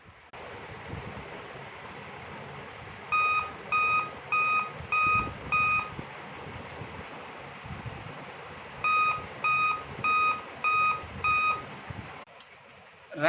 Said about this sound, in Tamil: நான் ஆன் பண்ணதும் வந்து பார்த்தீங்க அப்படின்னா கண்டினியூஸாக வந்து பீப் சவுண்ட் வருது.